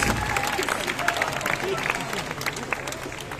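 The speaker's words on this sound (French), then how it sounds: "On l'applaudit parce qu'il s'y est pris à plusieurs fois pour le réussir." Audience applause for a soloist at a Breton music festival, a dense steady patter of clapping filling the whole stretch with crowd murmur mixed in, fairly even in loudness throughout.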